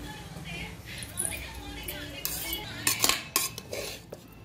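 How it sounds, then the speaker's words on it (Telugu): A spoon stirs bagara rice inside a pressure cooker, scraping and clinking against the metal pot in short uneven strokes, heard up close while a person talks over it. "కలుపుకుంటా ఒకసారి కింద పైన"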